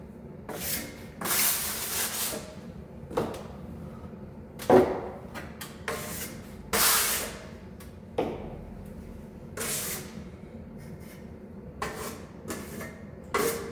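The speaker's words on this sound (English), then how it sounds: "I like to mud it nice and wide, even for the first coat." A drywall trowel spreads joint compound over tape in a series of scraping, swishing strokes, each a second or so long with short pauses between, close and moderately loud, no talking.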